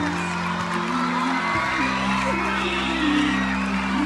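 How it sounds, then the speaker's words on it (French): Audience at a school government investiture ceremony cheering and whooping, with sustained voices and shouts forming a dense crowd roar that holds steady throughout. "On applaudit, le gouvernement scolaire à partir de ce jour."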